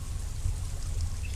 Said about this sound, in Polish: Tu jest ten strumyk.